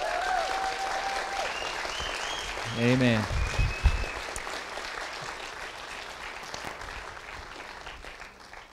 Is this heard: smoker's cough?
no